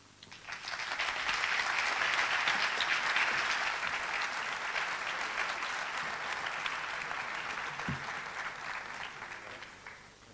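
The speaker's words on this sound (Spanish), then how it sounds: "otro aplauso" Audience applause after a talk on education, technopolitics and hacktivism, swelling quickly to a full, dense round of clapping, holding steady, then tapering toward the end.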